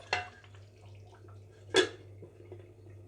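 Metal lid set down on a cooking pot of tomato chicken gravy curry, two short clinking knocks, the first soft and the second sharper, over a low steady kitchen hum.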